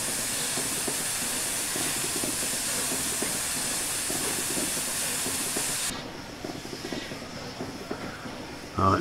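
In a train simulator, a steam locomotive on the Scotsman over Shap run vents a loud, steady hiss of escaping steam with faint rhythmic chuffing beneath, then the hiss cuts off and quieter rumbling and clicks remain, with no talk.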